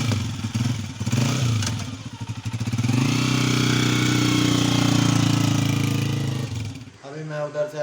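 A motorcycle rides along a village road, its engine droning loud and close for most of the ride, briefly dipping and then rising again before cutting off near the end. A voice speaks over it.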